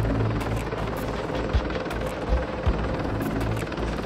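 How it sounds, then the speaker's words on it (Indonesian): A CH-53E Super Stallion heavy-lift military helicopter running loud and close, its steady rotor and turbine roar filling the stretch with a few sharper thumps and no voices. "CH-53 Super Stallion telah membuktikan dirinya sebagai salah satu helikopter angkut berat terkemuka di dunia"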